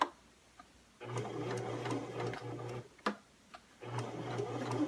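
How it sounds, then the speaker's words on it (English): A sewing machine zigzag-stitches the edges of a fabric tote bag's outer shell, running in three sustained bursts of steady mechanical whirring separated by short pauses and clicks. "Now we're going to zigzag our edges of the outer shell of the bag."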